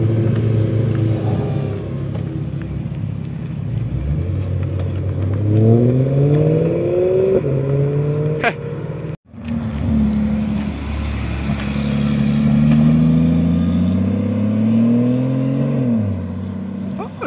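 A limited-edition Shelby GT500 accelerates hard, its engine note climbing through rising revs with a brief break before pulling up again, loud and close. Voices can be heard over the roar.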